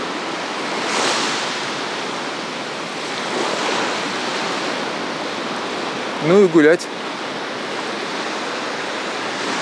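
Surf washes in a steady broad rush along Anapa's central beach in the off-season on a nearly windless day, with waves swelling now and then and a voice briefly speaking midway.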